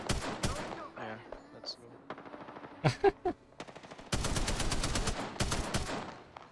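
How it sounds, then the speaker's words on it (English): Gunfire from many players in a video game, with scattered bursts and then a loud, sustained rapid automatic volley at the end, while players talk briefly over it. "there's so many people firing"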